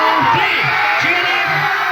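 Students and teachers at a school's annual sports ceremony cheer loudly, a continuous wash of shouts and whoops from a crowd filling the space.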